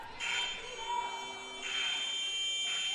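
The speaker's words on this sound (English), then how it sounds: "we got horns going off and buzzers going off all over the place" Electronic buzzers and horns blare in long sustained bursts, one after another, at a women's college basketball game in a gym.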